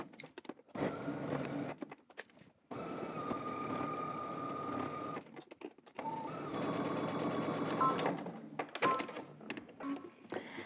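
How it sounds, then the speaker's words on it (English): A sewing machine runs a long seam with 5/8 inch seam allowance, its steady close whirring hum lasting several seconds at a time, broken by brief stops and rustling fabric handling. "stitch all the way around using 5/8 of an inch seam allowance"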